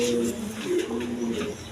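Domestic Rasgolla pigeons and fancy colored pigeons in a coop, some nesting on eggs in clay pots, give low rolling coos at moderate distance over a dense background of cooing and rustle.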